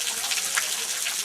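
Water of a small waterfall along a trail in Tibet, spilling and splashing in a continuous soft hiss, fairly faint and uniform, with no talk over it.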